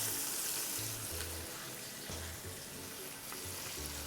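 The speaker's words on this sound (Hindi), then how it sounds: "अब इस प्याज को हम भूनेंगे मीडियम आंच पर, ताकि ये फ्राई हो जाए।" Chopped onion frying in a pan over medium heat for a moong dal tadka, a steady sizzle throughout with some stirring, close and fairly loud, no voices.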